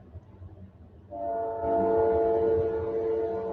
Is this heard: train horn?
yes